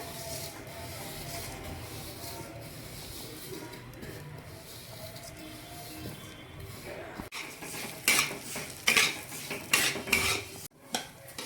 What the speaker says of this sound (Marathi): लापशीचा रवा भाजून घेऊया